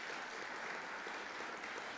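A crowd at a school excellence celebration claps for students, a soft, distant patter of many hands that stays faint and even throughout, with no voices on top.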